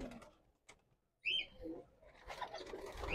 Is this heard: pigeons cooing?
yes